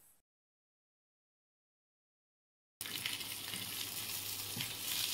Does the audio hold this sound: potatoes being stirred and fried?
yes